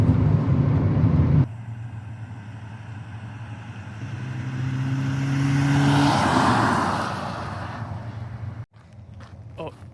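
Engine of a $200 Honda Civic running while the car drives, a steady low hum that swells and fades briefly.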